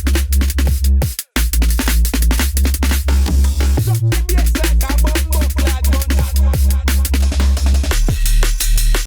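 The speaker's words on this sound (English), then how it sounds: "So first of all is the Bristol bass line, which sounds like this." A Bristol-style drum and bass synth bass line plays loud and heavy, deep sustained bass notes under fast, punchy breakbeat drums at a driving tempo, with a couple of brief dropouts, and no voices.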